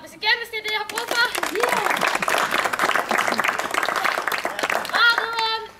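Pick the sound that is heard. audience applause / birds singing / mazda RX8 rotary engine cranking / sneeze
audience applause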